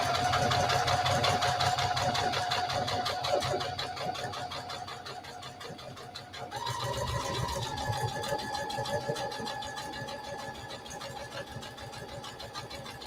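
Sewing machine stitching a buttonhole, running steadily with a dense rapid mechanical whir that shifts pitch midway as the stitching changes direction back and forth, close and continuous throughout.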